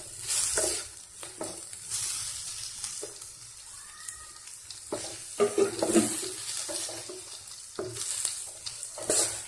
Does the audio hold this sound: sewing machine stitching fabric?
no